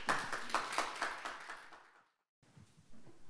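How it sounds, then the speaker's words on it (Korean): An audience at a Korean food and drug safety conference claps to welcome a professor speaking on microneedle patches. The clapping lasts about two seconds, then cuts to near silence and faint room noise. "큰 박수 부탁드립니다."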